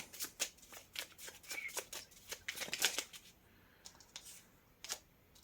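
Tarot cards are drawn and handled close up, with soft papery riffling, sliding and flicking in quick clusters, then a few sparse taps and slides in a quiet room.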